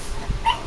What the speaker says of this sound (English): you probably know I got the 4 dogs here